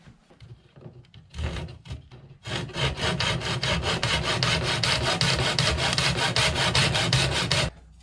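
A tile segment for a window edge is cut with quick rhythmic rasping strokes, first a few short passes, then a fast, steady run of loud scraping that stops abruptly near the end.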